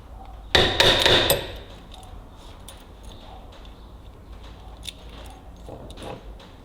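A hole punch tool stamps a washer out of gasket material during a Ferguson TEA20 lift plate overhaul, giving a loud cluster of sharp metallic knocks near the start, then quieter scattered taps and handling clicks.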